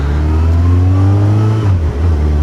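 A Yamaha XJR1300 motorcycle engine pulls hard under acceleration, its loud, close, steady growl rising in pitch before a brief dip as the revs shift, with no voices.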